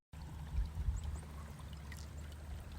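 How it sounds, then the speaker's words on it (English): Water flows over a geyser at Lake Jackson near Tallahassee, Florida, making a steady pouring, trickling rush. It is fairly close and low and sounds on its own, with no talking. "You can hear the water flowing."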